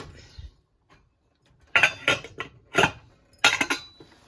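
A lid set onto a pot of tamarind dry fish and egg curry, a few sharp metallic clanks and clinks of steel close by after a quiet start, no speech.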